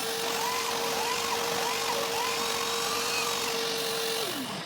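A power tool drives a tap to cut thread into a tank fitting, a steady loud whining drone with a fixed pitch that holds for several seconds and then drops away as the tool slows, with no talking.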